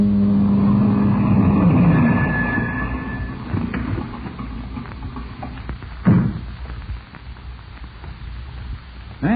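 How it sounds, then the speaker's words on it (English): A car approaches as a radio drama sound effect, its engine rumble swelling loud up close, then fading to a lower drone, with a sharp thump near the end. "Then you heard a car approach."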